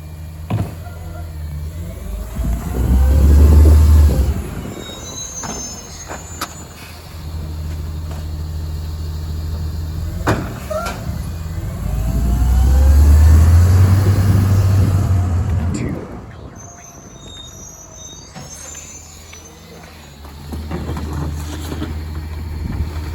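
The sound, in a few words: Freightliner M2 CNG garbage truck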